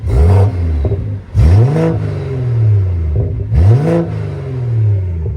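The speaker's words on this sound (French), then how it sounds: "je vais vous mettre des petits coups de gaz" A BMW M240i revs close up with three sharp throttle blips, each rising fast then falling back to a steady idle between them.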